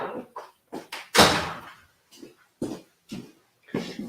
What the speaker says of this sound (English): I'm going to close the door as well